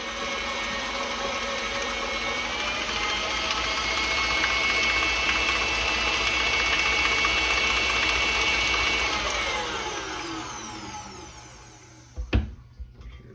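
A stand mixer fitted with a paddle beats room-temperature cream cheese, giving a steady, fairly loud motor whir that runs for about ten seconds, then winds down and stops, followed by a brief clunk.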